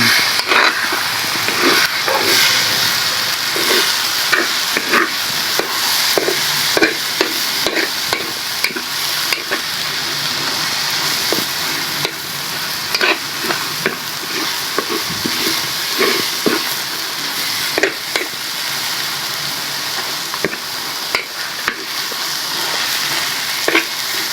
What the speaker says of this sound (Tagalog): yan haluin lang natin